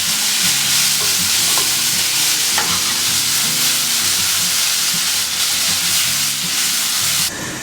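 Loud, steady sizzle and hiss of honey frying on portobello mushrooms and carrots in a hot pan, with faint stirring scrapes, continuous and close until it cuts off near the end.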